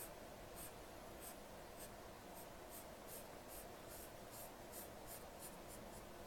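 Marker coloring in half of a rectangular fraction model on paper, a quick rhythmic run of scratchy back-and-forth strokes, faint and close, with no talking.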